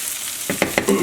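Eggs and filling for a country club style omelet sizzle and fry in a pan, with a few scraping stir strokes over steady frying noise, close and moderately loud.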